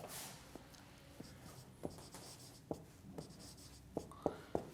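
During a lecture, a pen or marker scratches across a board in short, faint strokes with small taps, quiet and close in an otherwise hushed room.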